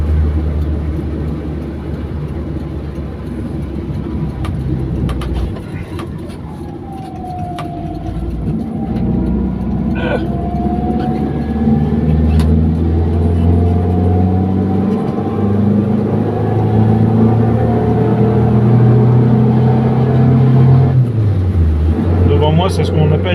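A car driving on the old 24 Hours circuit, its engine droning steadily close by, with pitch sweeps and a dip where it shifts gears before it pulls hard again.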